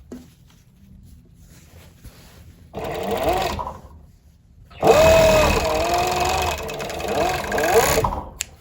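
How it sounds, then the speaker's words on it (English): A sewing machine runs in two loud bursts of rapid, even stitching as it closes the final seam of a knife-pleated Civil War skirt, with a voice talking over it. "So this is the last seam of sewing it all together in one big circle"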